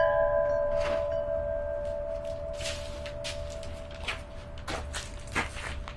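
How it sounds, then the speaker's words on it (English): A Zen gong on a patio rings with a sustained metallic hum that slowly fades, while faint knocks and clatters sound around it. "Sort of a Zen gong."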